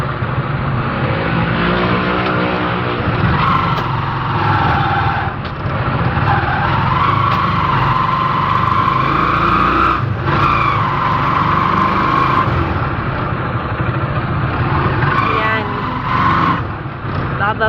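A motorized tricycle rides along a road early on a dark Sunday morning, its engine droning loud and steady throughout with continuous road rumble and people talking over it.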